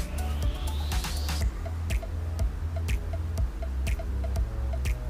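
Sprouted moong dal appe batter is spooned into the cups of an appe pan, making a steady series of soft, wet plops and drips over a low sizzle, with no voices.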